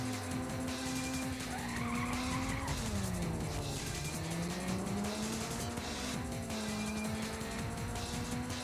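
Tyres squeal loudly and continuously as a car drifts in a PS1 racing video game, a sustained skid whine bending in pitch over a steady engine drone, with no talking.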